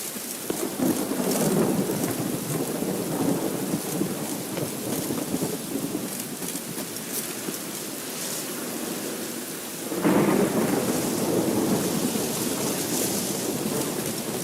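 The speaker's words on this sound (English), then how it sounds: "Ah, let it rain." Steady rainfall with rolling thunder in The Witcher video game, a constant hiss of rain under low rumbles, with a louder thunderclap breaking in near the end.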